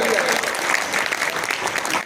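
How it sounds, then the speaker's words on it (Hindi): A crowd claps loudly and steadily at the 13th foundation day of a senior citizens' organisation in Kotdwar, Uttarakhand, the dense applause filling the moment before cutting off abruptly at the end. "एक बार जोरदार तालियां।"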